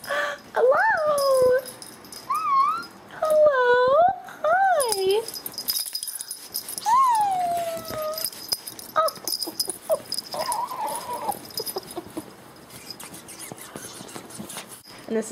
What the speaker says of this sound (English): Oh, these are my puppies.